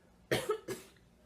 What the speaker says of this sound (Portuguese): Pera aí, gente, que eu vou tossir um pouquinho.